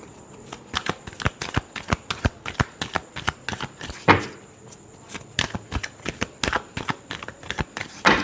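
A deck of tarot cards is shuffled over and over in a quick, even rhythm of close, crisp riffling snaps, with no talk.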